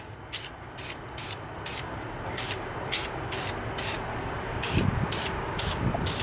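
A Dupli-Color spray paint can coats a disc brake caliper in a steady close hiss, with rhythmic bursts as the nozzle passes back and forth several times.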